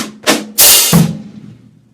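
Two or three sharp snare drum strokes from the left hand, loud and close, with a bright crack and a ringing decay, alone with no voices, part of a basic rock beat lesson.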